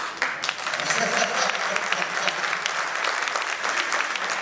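An audience applauds in a dense, sustained wash of clapping, steady and fairly loud from start to finish.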